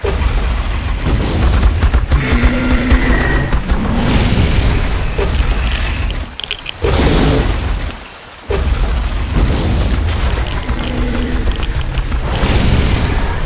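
Gunfire in the survival video game Ark Survival Evolved: loud, dense bursts of booming shots rolling almost continuously, with two brief lulls partway through.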